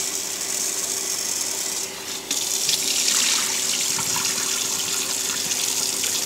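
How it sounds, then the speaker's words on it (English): Cold water runs steadily from a kitchen tap into a sink as rice is rinsed, a continuous close splashing hiss with a brief dip near the two-second mark. "always use cold water to rinse your rice"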